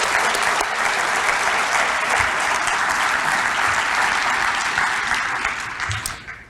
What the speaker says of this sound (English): let's give them a round of applause for all they do for us